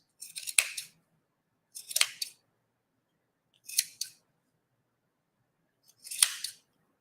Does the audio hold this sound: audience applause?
no